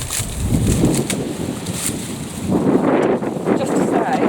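Gusty wind buffeting the microphone outdoors in a kitchen garden, a loud rumbling rush that swells and eases over a few seconds, with someone talking through it.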